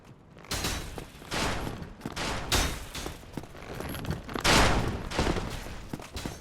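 An enemy fires in the Dark Souls game in a string of loud, sharp bursts about every half second to second, each blast ringing out over a quieter background.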